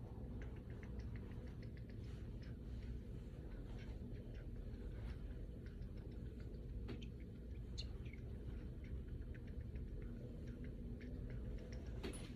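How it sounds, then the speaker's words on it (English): Faint bird chirps scattered over a quiet outdoor background, with soft ticking calls repeating irregularly at a distance. "I'm hearing the birds."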